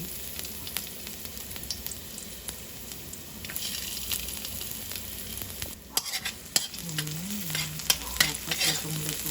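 Garlic frying in olive oil in a hot pan gives off a busy, crackling sizzle close by, with sharp pops and utensil clicks, and a faint tonal whine near the end.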